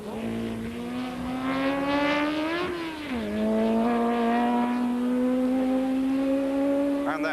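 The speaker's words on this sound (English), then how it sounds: "Just locked it up under braking." A 1968 Martini MK4 historic racing car at Montlhéry, its engine note rising and dipping as it brakes hard with a brief tire squeal, then pulling away at high revs, loud and close throughout.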